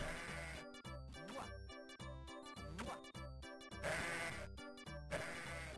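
Synthesized sheep bleats from the Sega Genesis game Barney's Hide and Seek, repeating in short bursts within chiming chiptune game music, steady and fairly loud.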